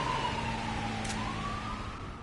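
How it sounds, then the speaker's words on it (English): A real ambulance siren goes by outside near a hospital, a faint wailing tone sliding slowly in pitch over a low traffic-like rumble, distant and short. "Oh, there goes a real ambulance."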